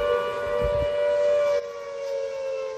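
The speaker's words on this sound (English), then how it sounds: "the flood sirens only sounded as the snow began to melt" Flood warning sirens in Hebden Bridge, West Yorkshire, holding one sustained wailing tone throughout, loud and continuous with no talk.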